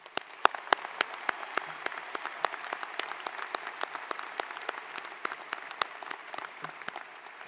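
Audience applause for distinguished engineering graduates at a university undergraduate commencement, sparse distinct claps scattered across a large space, steady and fairly soft throughout with no talking.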